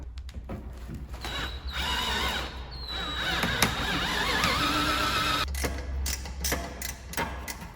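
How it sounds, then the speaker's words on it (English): Drill boring out a rivet on the rear bumper of a Dodge, a steady mid-pitched whine running for several seconds with shifting load and a few scraping clicks, close and moderately loud, with no talking. "Turning out that I have to drill this rivet here"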